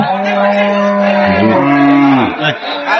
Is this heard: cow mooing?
yes